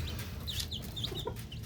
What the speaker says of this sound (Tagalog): si Queen Bee mabait na inahin